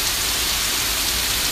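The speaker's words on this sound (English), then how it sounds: "it's just raining so hard and so frequently" Heavy rain pours down hard and steadily in a yard with sandy soil, a loud continuous wash of hiss close by.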